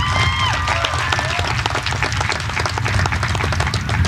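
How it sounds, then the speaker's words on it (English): Crowd applause at a high school graduation ceremony, a lively sustained burst of many people clapping with a few scattered cheers and whistles early on, steady throughout. "Let's give another round of applause for all our students."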